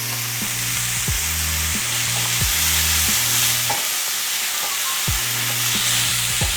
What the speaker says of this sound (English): Make sure there's plenty of oil in the pan because we're basically making like a small stir fry.